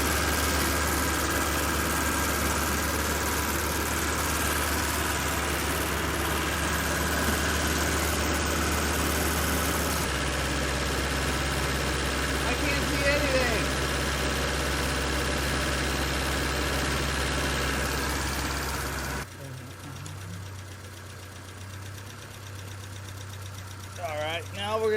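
A 1983 BMW 320i engine runs steadily at a raised idle near 2,200 RPM, a constant low drone that drops in pitch and level near the end.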